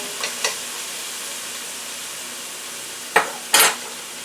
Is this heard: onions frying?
yes